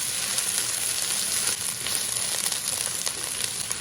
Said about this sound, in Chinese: 爆香之后倒入韭菜，把韭菜随便给它翻一放几下就可以了